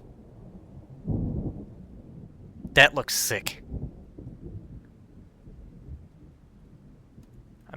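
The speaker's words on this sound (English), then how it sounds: "Oh, there's a storm." Thunder rolls through a Minecraft storm: a deep low rumble rises and fades, with a few sharp crackling bursts soon after and a quiet steady hiss beneath, while a voice briefly speaks.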